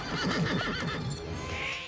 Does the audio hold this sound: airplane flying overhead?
no